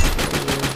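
Rapid burst of gunfire from the mobile battle-royale game Free Fire MAX, a dense, loud, continuous volley lasting under a second with no talk.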